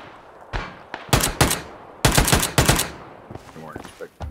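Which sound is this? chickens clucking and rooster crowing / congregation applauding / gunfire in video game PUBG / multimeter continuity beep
gunfire in video game PUBG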